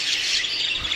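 Dense, steady twittering of many small birds close by, a continuous bright chatter with no pauses.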